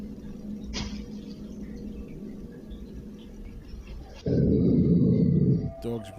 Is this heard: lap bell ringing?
no